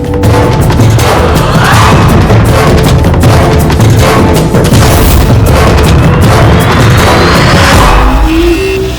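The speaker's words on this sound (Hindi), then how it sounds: "राइफल की गोली?" Rifle gunfire in a crime drama: a loud, continuous barrage of heavy booming blasts and rumble, close and dense, filling the whole stretch without a break.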